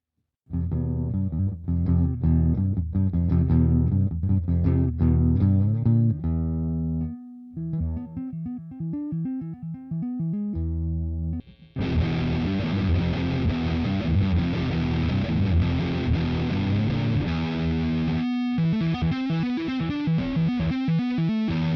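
Distorted electric guitar chords and riffs play loudly with a harsh, saturated edge, breaking off briefly and then returning with a denser, buzzier crunch.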